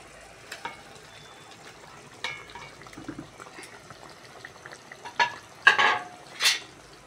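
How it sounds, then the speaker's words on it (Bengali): Pieces of fried Bombay duck fish go into a hot pan for a curry, giving short scattered bursts of sizzling and stirring clatter against a quiet background, close by. "এবার ভেজে রাখা লোটে মাছগুলো দিয়ে দেবো।"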